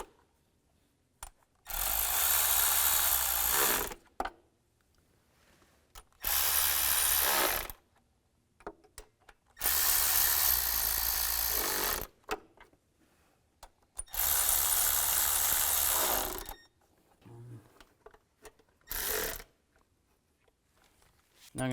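A power tool spins intake manifold bolts tight on a 2017-2022 GMC Acadia in loud bursts of a few seconds each, separated by quiet pauses with small clicks and handling noises.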